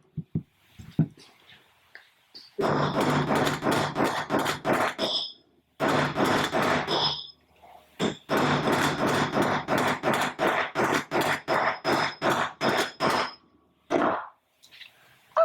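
Rapid metal-on-metal hammer blows ring out in long bursts, with a few brief pauses between flurries, loud and close with a bright clanging tone.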